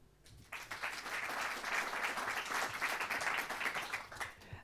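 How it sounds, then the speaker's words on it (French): An audience applauds at a French public talk on space weather and solar activity, a dense, steady wash of many hands clapping that swells after a brief quiet start and holds evenly throughout. "sous vos applaudissements"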